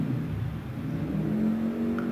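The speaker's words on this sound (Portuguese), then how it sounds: "Agora é a moto zoando." A motorcycle revs outside, a steady engine drone with a rising pitch near the end, heard from a distance through a wall with no talk.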